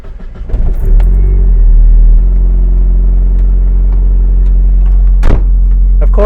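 A Mazda Miata roadster with a turbocharged VVT engine rumbles steadily and loudly, a close, deep drone with a brief sharp thump partway through.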